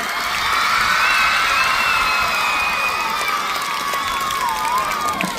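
Loud crowd applause mixed with cheering, shouts and whistles at a Tamil literary society festival in a government model higher secondary school, a dense continuous roar that holds steady throughout.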